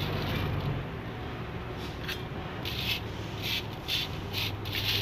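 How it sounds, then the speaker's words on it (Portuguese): Rock holding iron and gold is ground by hand, giving a close, continuous gritty rubbing and scraping with repeated rhythmic strokes. "isso aqui eu vou moer de novo para ver, porque pode ter pó aqui dentro."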